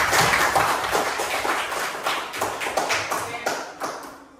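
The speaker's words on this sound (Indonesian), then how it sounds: "Kita tepuk tangan dulu." A class claps hands together in a quick burst of sharp, irregular claps that fade out over a few seconds, fairly close.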